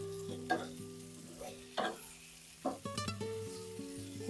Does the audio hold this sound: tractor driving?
no